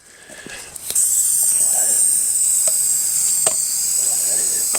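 Aerosol spray paint can hissing in one steady, continuous burst after a few faint clicks and knocks, close and fairly loud, used to repaint items during a shop cleanup.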